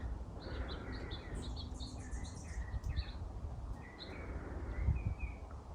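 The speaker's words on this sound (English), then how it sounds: "Oh, and so there's some fruit trees and I hear a lot of birds." Birds chirp and tweet in a quiet backyard with fruit trees, with scattered high calls at varying distances over faint low background rumble and occasional soft insect-like buzz.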